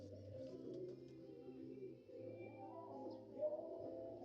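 Flyer pigeons coo in low, rolling, throaty calls that repeat almost continuously. The birds sound close and soft, with no talking.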